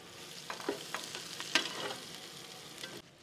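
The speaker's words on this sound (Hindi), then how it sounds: "4 बड़े साइज़ के प्याज शामिल कर देंगे इस तरीके से, और अच्छे तरीके से गोल्डन ब्राउन करेंगे।" Four large onions fry in oil until golden brown, giving a moderate steady sizzle with scattered clicks and scrapes of stirring before the sound drops off at the end.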